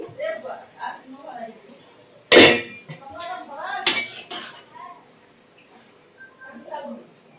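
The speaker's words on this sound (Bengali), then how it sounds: "তো ঢাকনাটা খুলে একবার দেখে নিচ্ছি" A metal lid comes off a cooking pot of boiling okra with two sharp, loud clanks amid ongoing kitchen clatter, under a person talking.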